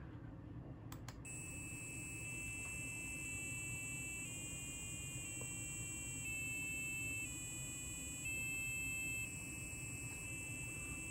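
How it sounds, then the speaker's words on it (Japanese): A thin electronic passive buzzer driven by a Raspberry Pi Pico beeps steadily, stepping through a series of different pitches like a musical scale, one after another over a low background hum. "ブザーを鳴らしてみたんですけども"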